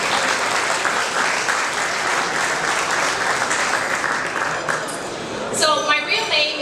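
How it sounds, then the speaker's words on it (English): Sustained applause from the audience at a charity golf tournament dinner, dense steady clapping throughout at even loudness with a brief voice breaking in near the end. "How about we give the event organizers a round of applause?"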